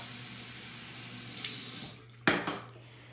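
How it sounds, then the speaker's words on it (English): Water from a sink tap runs steadily onto a shaving brush, a soft broadband hiss, then cuts off briefly before a short louder splash and a second burst near the end. "So let me get some water on my brush."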